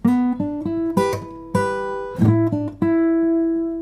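An electric guitar plays a short pentatonic double-stop riff of ringing two-note chords, struck in quick clusters with brief sustains, clear and up close.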